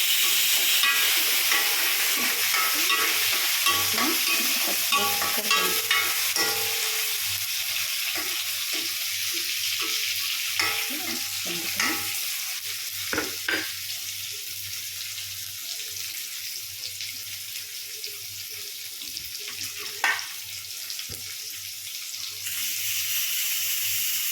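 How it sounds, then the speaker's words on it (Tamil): Sambar bubbles in a pot while being stirred, a dense hissing simmer with scattered spoon scrapes and clinks, steady and close throughout. "பாருங்கள் சாம்பார் எப்படி தகன்னு கொதிச்சிட்ருக்கு"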